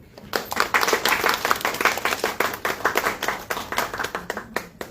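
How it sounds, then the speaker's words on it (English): An audience at a book launch claps to welcome a young poet on stage, a brisk, lively round of many hands rising quickly and tapering off, with voices and cheers mixed in. "Please give a big round of applause for Johara Sheikh"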